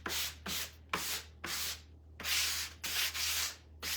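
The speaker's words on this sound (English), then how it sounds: "I am gonna take my 80 grit and just kind of go over the top" Rhythmic back-and-forth strokes of 80 grit sandpaper rubbed by hand over a craft piece for a bunny ear wreath, about eight close, scratchy passes with brief pauses between them and no talking.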